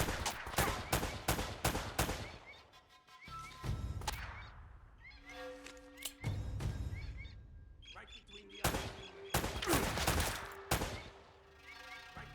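Gunfire rings out in Uncharted: Drake's Fortune, with rapid bursts of loud, close shots and single reports ringing out between pauses, while a voice speaks at times.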